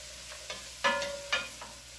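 Sliced summer squash sautéing in a pan: a low sizzle with a few brief stirring scrapes, two of them louder and closer. No voices.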